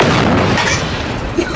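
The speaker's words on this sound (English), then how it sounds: "I fucking ran him over with my bike, he exploded." A loud, dense explosion in a video game as a player is run over by a bike, a heavy continuous boom that fills the moment before fading slightly.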